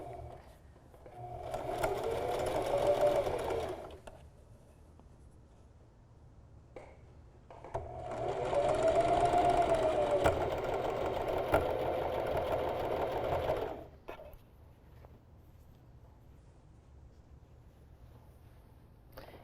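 A sewing machine runs a straight stretch stitch on knit fabric through a regular size 11 needle, in two steady whirring runs of a few seconds each with quieter pauses between them, close and clear.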